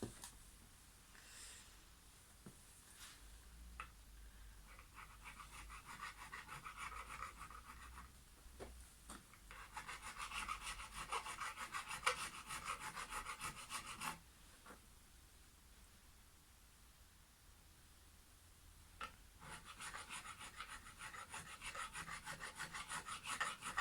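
Steady metallic rasping of a file worked back and forth on Stratocaster guitar frets to crown them, close up, in long continuous passes with brief pauses between them.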